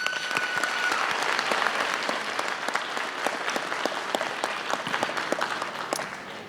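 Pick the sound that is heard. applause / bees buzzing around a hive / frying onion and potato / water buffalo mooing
applause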